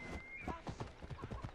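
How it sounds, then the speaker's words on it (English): Horse hooves clip-clop in a steady rhythm of close, distinct hoofbeats in the Assassin's Creed Odyssey video game, with no talk over them. "Not sure why we need the horses."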